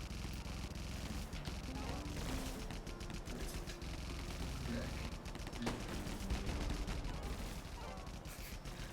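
Minigun fire in the video game Airheart rattles in steady rapid bursts, continuous and fairly quiet, with game sound around it and some talk.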